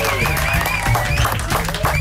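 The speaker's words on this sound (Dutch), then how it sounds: "Mag ik een groot applaus voor niemand minder dan Trobi!" A Dutch TV studio audience greets a 17-year-old artist with a loud, close burst of applause and cheering, a steady crowd roar with voices and tonal sounds running through it.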